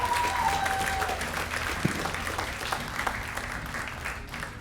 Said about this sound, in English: Let's have a nice round of applause for Kay Perrin.